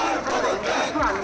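A large crowd at a student political march in Calcutta shouts and roars continuously, a dense, loud wall of voices with no pause.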